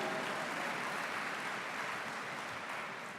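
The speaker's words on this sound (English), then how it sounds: "You can clap, it's cool." An audience applauds at a Birmingham City University graduation ceremony, a steady, even wash of clapping held at a soft, distant level throughout, with no voices over it.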